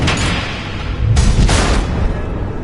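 Missile explosions in the Batman: The Enemy Within video game, heard as two heavy, muffled booms in quick succession over a steady low rumble.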